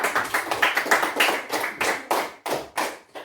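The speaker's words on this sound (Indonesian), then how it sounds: "Tepuk tangan untuk Eva" Rhythmic clapping from a small classroom group for a student, a series of distinct, evenly spaced bursts that slow and separate toward the end, close and clear without talk.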